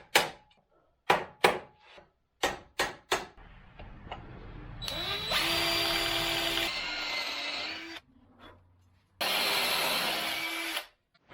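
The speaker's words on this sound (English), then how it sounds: "got our holes drilled now on both pieces, so that's ready to go." Power drill boring holes through trailer pieces, with several short sharp bursts at first, then longer loud sustained whines of drilling with brief pauses between them, close by.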